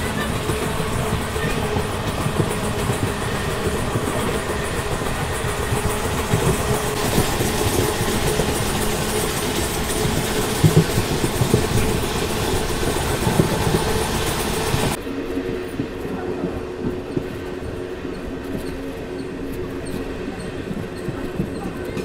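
MEMU passenger train on the Bengaluru to Kolar line running between stations, a loud steady rumble of wheels and engine with rail clatter heard from on board, dropping to a quieter hum near the end.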